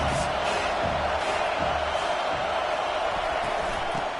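A dense, unbroken roar from a large stadium crowd at an Oregon State vs SC college football game swells loudly behind the defense on a third down.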